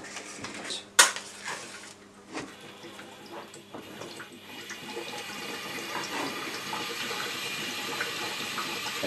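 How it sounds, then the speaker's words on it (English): Gas from a biodigester feeding a camping cooker, heard as a steady hissing, bubbling rush that builds and holds after a few knocks and clicks at the start. "That's the pressure that's coming through from the biodigester. You can hear it."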